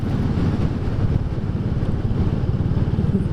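Royal Enfield 350 Classic (2022) single-cylinder engine running steadily with a low, even thump while riding, heavy wind rush over the microphone and no talk.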